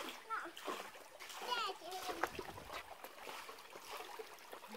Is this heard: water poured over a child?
yes